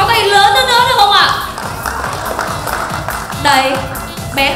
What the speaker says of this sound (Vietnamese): dành tràng pháo tay lớn hơn nữa được không ạ?